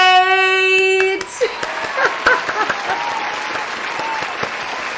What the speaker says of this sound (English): I need everyone to give a big round of applause for today's guest, Baby Weight!